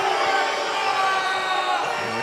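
Dense arena crowd at a professional boxing match, Joe Hicks against Ricardo Villalaba, roaring and cheering steadily with scattered whoops and shouts, a loud continuous wash of voices throughout.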